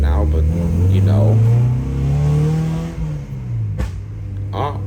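A rebuilt Honda Civic SiR with a B16A engine revs and accelerates on its first drive, the pitch climbing and falling through a gear change, loud and close with a voice talking over it.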